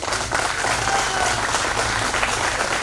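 Loud applause from an audience in a meeting hall, dense continuous clapping filling the whole stretch.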